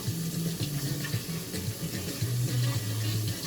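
Hot tap water runs steadily over a sachet of ABC Selera Pedas Hot Chicken Lime instant noodle seasoning, making a continuous close splashing stream with no voices.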